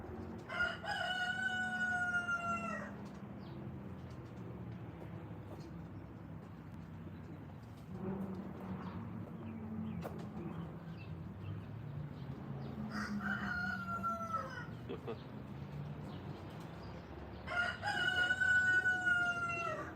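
Repeated rooster crows ring out at intervals, three or four loud cock-a-doodle-doos separated by quieter farmyard noise and low murmuring.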